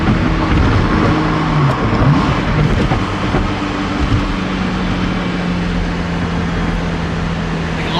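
Ferrari F40 engine and turbo on the move, a loud, steady rumbling drone with a sustained whine riding over it, close up and continuous, with no talking.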